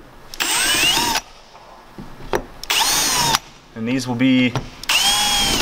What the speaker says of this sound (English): Start to drill a little bit.